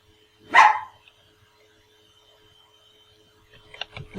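A single sharp dog bark rings out near the start, fairly close and loud, followed by quiet and then a few softer yips and rustles near the end.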